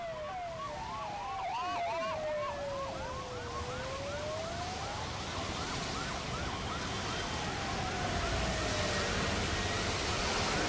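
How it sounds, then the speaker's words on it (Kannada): Police jeeps pass on a road in Mangaluru during heavy security, their wailing sirens rising and falling loudly in overlapping cycles over steady traffic rumble, one long swooping tone gradually trailing away. "ಎಷ್ಟು ಪೊಲೀಸ್ ಜೀಪ್ಗಳು ಹೋಗ್ತಾ ಇವೆ ನೋಡಿ."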